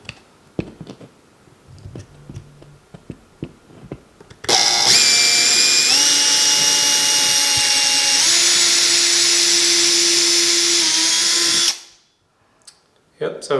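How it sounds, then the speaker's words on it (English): A power drill with a small bit bores into drywall and a wood stud, starting up after a few faint clicks and handling noises into one long, loud, whining run of about seven seconds, its pitch stepping down as the bit bites, then stopping abruptly. "I'm going to go slowly when I drill my holes with a small drill bit"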